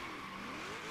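A Nissan Fairlady Z in the Hot Wheels racing video game spins its wheels, with a loud, continuous engine roar and tire squeal that rises steadily in pitch, heard alone.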